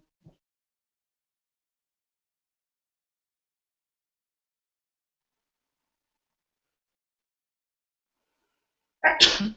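After long silence, one sharp sneeze bursts out loudly and close at the very end.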